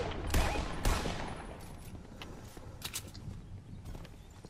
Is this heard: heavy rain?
no